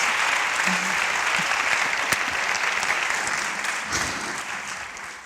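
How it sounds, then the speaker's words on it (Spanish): Sustained audience applause greets a University of Valladolid psychologist arriving to speak on positive psychology and happiness, a broad even roar of clapping hands that holds steady and tapers slightly at the close. "quiero que la recibáis con un fuerte aplauso"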